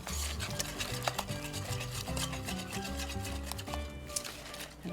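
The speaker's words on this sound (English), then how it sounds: "Let's mix this up a little bit first, and then I'll add the rest of the flour." Semla bun dough of flour, water and egg being mixed in a bowl, with steady close scraping and rubbing strokes, a few small knocks, and faint tonal background music running throughout.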